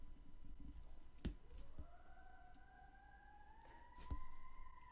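A siren wails at a distance, two rising-and-holding tones sweeping upward and sustaining under low background rumble, with a couple of sharp clicks.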